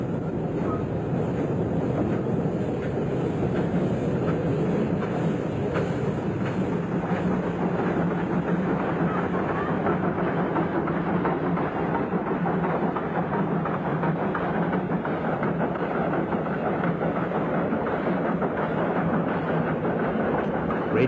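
Steady, continuous rumble of a steam rack railway train climbing a steep 1-in-12 gradient at Padang Panjang in the 1970s, sustained and unbroken with a hissy upper layer and no clear beats, heard for a long stretch without talk.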